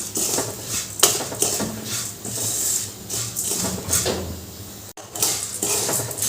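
Puffed rice being stirred continuously in a pan over a low gas flame, producing repeated close scraping and rattling of a metal utensil against the pan in an uneven rhythm.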